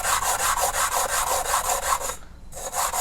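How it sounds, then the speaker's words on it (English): A piece of glass is rubbed in circles on 120-grit sandpaper on a sanding table, giving a loud, rhythmic gritty scraping with a brief pause before it resumes. "just make sure you're constantly rotating your piece of glass or whatever you're sanding"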